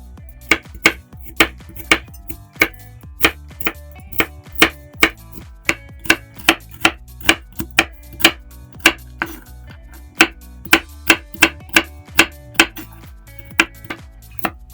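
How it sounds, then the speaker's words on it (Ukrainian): A knife finely chops walnuts rapidly and steadily on a cutting board, dozens of sharp, even knocks close up with no talking. "Волоські горіхи теж нарізаю дрібно."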